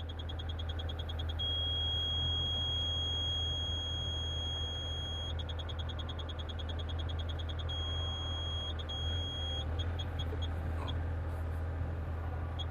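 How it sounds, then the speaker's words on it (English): A Bobcat depth check grade guidance system sounds a high electronic tone steadily for several seconds, signalling on-target grade, broken by short rapid beeps, over a constant low engine drone from heavy machinery. "Solid tone tells me I'm on target."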